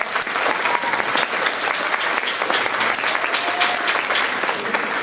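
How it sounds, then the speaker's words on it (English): Audience applause at a high school band concert, dense sustained clapping from a large crowd filling the room at a steady level throughout. "Can you give him a round of applause?"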